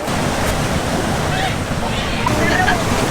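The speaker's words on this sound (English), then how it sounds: "Waves today were pretty mild and chill." Mild ocean waves breaking at a surf beach, a constant wash of surf with wind buffeting the microphone throughout.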